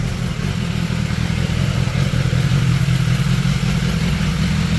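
BMW S1000XR 2018 motorcycle engine running steadily in a workshop during stator replacement, a close continuous low idle rumble with no one speaking.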